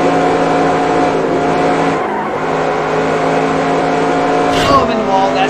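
A race car in the NASCAR Racing 2003 video game drones steadily at high revs, then scrapes into the wall with a brief harsh burst near the end, while a voice talks over the engine.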